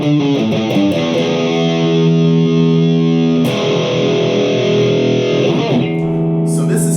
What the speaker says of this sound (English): So I guess it's a Mesa Boogie dual rectifier based patch.